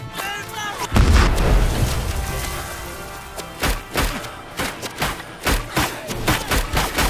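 Gunfire and heavy explosions from the war video game Ad Infinitum: a deep booming blast, then a rapid run of sharp thudding shots and bangs in regular bursts.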